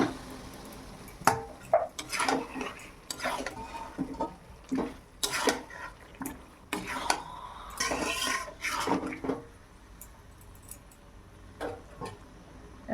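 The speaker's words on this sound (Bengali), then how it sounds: "খুব ভালোভাবে আদা রসুন ভাজা হয়ে গেছে, এরপর আমি ম্যারিনেট করা মটনটা দিয়ে দিলাম।" Marinated mutton tipped into a pan of fried ginger and garlic, with a run of clattering pot, utensil and stirring knocks, some short scraping bursts and wet handling noises, close and fairly quiet, no talk.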